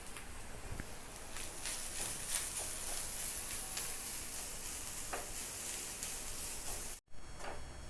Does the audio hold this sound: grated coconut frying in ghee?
yes